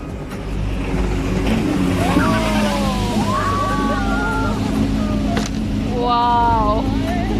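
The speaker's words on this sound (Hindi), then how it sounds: "यहाँ पर बोटिंग करना और स्पेशली सोलो राइड लेना इज़ एन अमेजिंग स्टंट।" A motorboat speeds across Attabad Lake with a constant loud engine drone and water rush throughout, while voices call out and talk over the noise.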